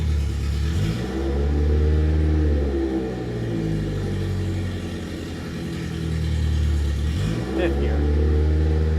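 A car engine in a garage revs up and drops repeatedly as it shifts up through the gears, loud and close, with rising and falling engine tones and a voice speaking over it.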